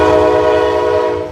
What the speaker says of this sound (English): And there's the train. It's just loud.